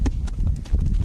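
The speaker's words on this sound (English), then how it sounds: "Oh no, there's a horse coming." A horse approaches with short, rhythmic hoof clops, fairly close and brief, set against a low rumbling background with no clear talk.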